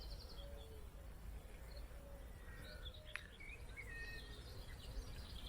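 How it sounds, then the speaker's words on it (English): Birds chirp in short, scattered calls over a low, steady outdoor rumble at a marina, faint and somewhat distant, with no clear cooing standing out. "the birds singing, the doves cooing, and occasionally the ducks and the geese having a squabble"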